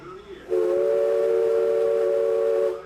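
After a short moment of background noise, the Mark Twain riverboat's steam whistle blasts a steady, loud multi-tone note for just over two seconds before stopping.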